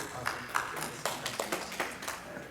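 Congregation clapping to welcome visitors during a Korean church Sunday service, a light irregular smattering of claps spread across the room at moderate-to-low level.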